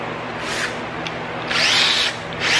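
Short bursts of a power drill whirring as it drives bolts into Jeep Gladiator headlight guards, three spurts of varying length with brief pauses between, close by and fairly loud.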